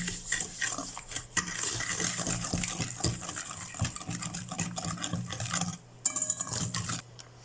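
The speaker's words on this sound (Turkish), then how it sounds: "Qarışdırıram bunları yaxşıca." A spoon stirring sugar, yogurt and oil together in a bowl, with a run of scraping and clinking that goes on steadily for several seconds, close up.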